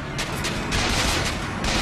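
Rapid bursts of gunfire crackle in a Bioshock Infinite firefight, several loud volleys overlapping in quick succession with dense, harsh impacts and no voice over them.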